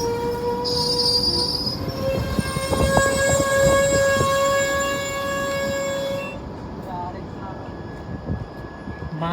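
A train rolling along the rails with long, loud wheel squeals ringing over a constant rumble, heard from on board during a tour in North India.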